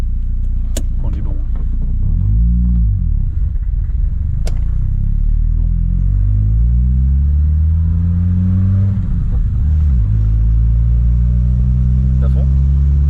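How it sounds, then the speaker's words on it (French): A Peugeot 106 Quiksilver fitted with an intake cone filter accelerates through the gears, its engine droning and rising in pitch with several shifts, heard loud from inside the cabin while occupants talk over it. "au côté passager, on entend beaucoup plus le cône qu'au côté conducteur"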